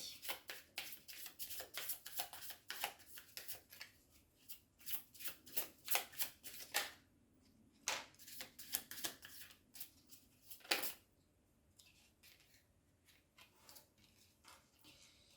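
Oracle cards are shuffled by hand in repeated crisp riffling bursts, close and quiet, with brief pauses between runs and a final few flicks.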